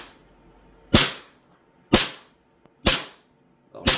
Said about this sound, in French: On va essayer de tirer dans le mille.